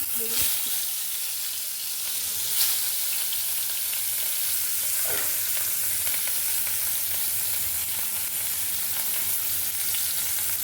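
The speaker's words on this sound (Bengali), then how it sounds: "মাছটা বাজা বসায় দেই" Fish frying in very hot oil, a loud, dense, steady sizzle that fills the whole stretch, with a couple of brief clicks and no speech over it.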